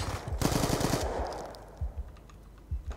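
Gunfire from Black Ops 2 played on PC: a rapid automatic burst rattles for about a second, then fades into a few scattered single shots and clicks.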